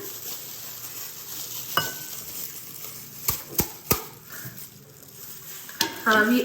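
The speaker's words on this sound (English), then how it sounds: "so now we will put the pasta in it" Cooked pasta tipped into a pan and stirred while making white sauce pasta at home, soft sizzling with several sharp utensil knocks and scrapes against the pan, close and clear, with no talking.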